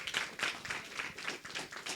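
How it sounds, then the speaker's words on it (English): Quiet, scattered clapping from a church congregation, a soft run of separate claps at a steady, uneven rhythm, faint and somewhat distant, with no talk over it. "What kind of quiet clap is that?"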